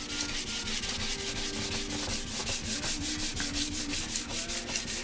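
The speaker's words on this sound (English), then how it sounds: "day of color sanding or a day of sanding period" Hand color sanding on the paintwork of a Honda NS 250 motorcycle under restoration: loud, close, continuous gritty rubbing in quick rhythmic back-and-forth strokes, with no talk.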